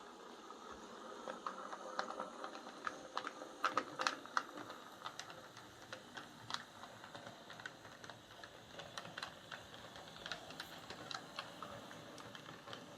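Hornby J36 model steam locomotive running on rollers in a lathe, giving a faint, fast, continuous ticking and clicking mechanical patter, close by and quiet, with no talking.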